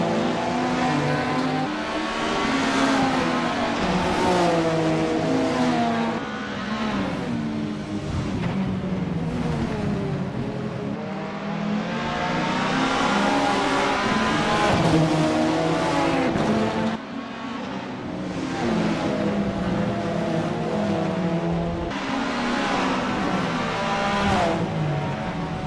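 A 1990s touring car in the VRC Super Tourer game on a practice out lap while the tires warm up, its engine loud and steady throughout, rising and falling through gear changes with continuous harmonic whine.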